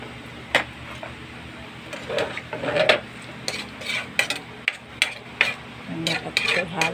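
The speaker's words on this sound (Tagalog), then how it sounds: "Tapos haluin muna natin." A torta omelette mixture is stirred in a bowl with a utensil, giving irregular light clinks and scrapes against the side at close range over a quiet kitchen background.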